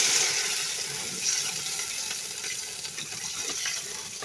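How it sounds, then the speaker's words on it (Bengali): Water is poured into a pan of frying small mola fish, a steady soft gushing and sizzle close by that runs continuously at low level with no voices. "এখন একটু পানি দিয়ে দিব।"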